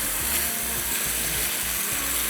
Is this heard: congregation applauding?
no